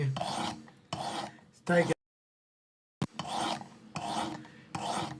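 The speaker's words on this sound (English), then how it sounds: "work through these different grits and put a mirror edge back on it" Rhythmic rasping strokes of an S35VN steel Kizer Drop Bear pocket knife drawn across sharpening grits, several passes in steady bursts with a brief pause, close and moderately loud, with a voice speaking briefly.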